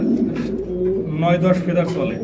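Red Maltese pigeons coo in low, rolling murmurs close by, with a voice talking over them.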